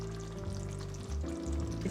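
Black bean sauce for jajangmyeon noodles with beef and shrimp frying and sizzling in a pan, a soft, steady crackling bubble with low rumbling, fairly quiet and without talk.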